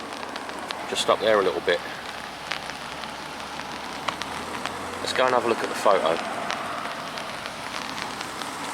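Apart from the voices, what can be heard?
rain falling on an umbrella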